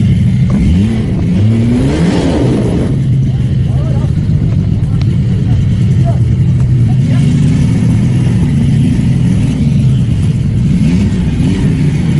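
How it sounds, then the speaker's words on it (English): A vintage Arctic Cat snowmobile engine revs up and down with rising and falling whines, then settles into a steady, loud, nearby running drone, with voices talking underneath. "vintage Arctic Cat snowmobiles"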